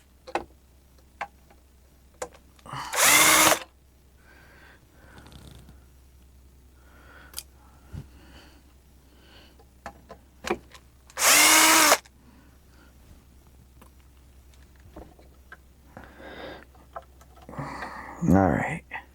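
Power drill unscrewing screws from a guitar: two short loud whirring bursts about eight seconds apart, then a brief whine near the end, with quiet handling ticks and low room hum in between.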